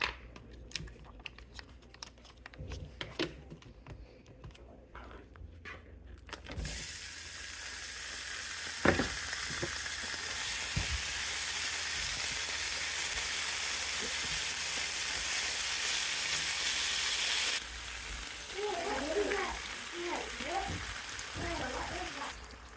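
Meat cooking with chili paste in a pan, a loud steady sizzle of frying that swells in abruptly and holds, with occasional clinks and stirring, later easing slightly while a voice is heard briefly.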